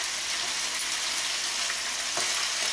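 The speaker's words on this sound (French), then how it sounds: "Je vais tourner ma viande." Beef frying in a pan for a chocolate-bound beef sauté, a dense continuous sizzle close by with a soft stirring scrape partway through.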